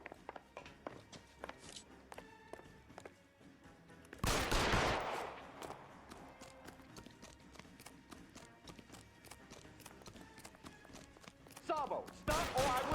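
Gunfire from a shootout in the crime video game L.A. Noire, a loud broadband burst of shots near the start and another near the end, with softer clattering and footstep-like sounds between, and no one talking over it.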